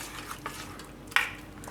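A spoon stirs chopped vegetables, including green beans, into pava sooji uttapam batter, giving a few soft wet scrapes and one brief sharper clink against the bowl.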